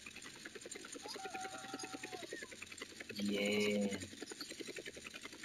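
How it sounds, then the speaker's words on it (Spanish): A helicopter in GTA San Andreas gives a rapid, steady rotor chop with an engine whine, continuous and moderately loud. A brief louder mechanical burst cuts in midway, and a voice speaks a single word. "Yo creo que aquí nos vamos a ir en helicóptero."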